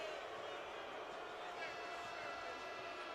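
A basketball arena crowd reacts to a technical foul at a college men's game, a dense, steady roar of displeasure from many voices with no clear individual calls.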